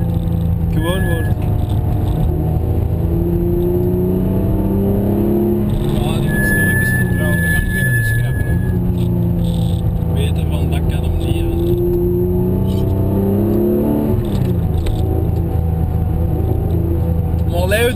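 A Porsche GT3 on the Écuyers race circuit in France, heard from inside as a loud, continuous engine drone whose pitch rises and falls through gear changes and corners, with occupants talking over it.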